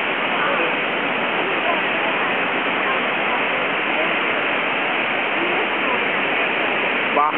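Niagara Falls roars in a steady, dense wash of falling water heard from close by on a boat, loud and unbroken throughout, with a faint voice briefly near the end.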